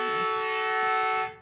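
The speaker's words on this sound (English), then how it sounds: "As the siren goes," A loud, sustained siren blares at an Australian football grand final, Terrigal Avoca versus Killarney Vale, a single steady horn-like tone held close and clear, then cutting off sharply at the end.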